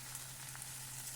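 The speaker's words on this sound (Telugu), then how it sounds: "ఎక్కువసేపు క్యాబేజీ వేగనవసరం లేదండి, ఒక 2 నిమిషాలు వేగితే చాలు" Shredded cabbage sizzles steadily in hot oil tempering in a pan, a soft, even frying hiss with faint crackles and no talk.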